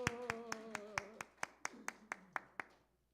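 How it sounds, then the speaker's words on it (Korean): A Korean Methodist congregation at a Wednesday service claps in unison, about a dozen sharp, evenly spaced claps in quick rhythm over a sustained tone. The claps taper off and fade out after about three seconds. "박수."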